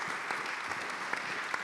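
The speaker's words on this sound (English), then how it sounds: "please give the panelists a round of applause" Brief, fairly faint applause from a conference audience for an energy panel, a steady patter of many hands clapping with no talking over it.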